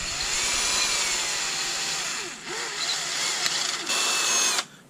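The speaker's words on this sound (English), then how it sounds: "drill this pilot hole through" A power drill whines steadily while drilling a pilot hole for an external antenna on an MJX D43 drone, its pitch dipping briefly as it bites into material, then cuts off abruptly at the end.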